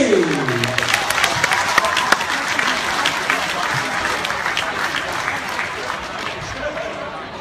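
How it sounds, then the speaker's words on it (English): A boxing crowd applauds a fighter's opponent after a stoppage, a loud, continuous wash of clapping and crowd noise with a commentator's voice running over it. "continue that applause for Gallant's opponent"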